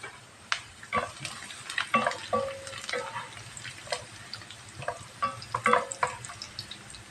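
Onions fry in a pan until crispy, a soft, steady sizzle broken by scattered clinks and stirring scrapes at close range, with no voice.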